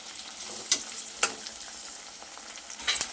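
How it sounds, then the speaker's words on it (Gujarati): Okra frying in a kadai, a steady low sizzle with a few sharp scraping clicks of stirring, close and fairly quiet, no voices. "વચ્ચે વચ્ચે આ રીતે હલાવતા જવાનું જેથી કઢાઈ સાથે ભીંડા ચોંટી ના જાય."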